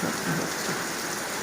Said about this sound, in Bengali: গুরুম গুরুম করছে আকাশ